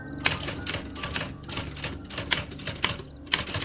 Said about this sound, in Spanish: vuelvo a escuchar el teclado de la máquina de escribir golpeando con fuerza el papel que descansa sobre el rodillo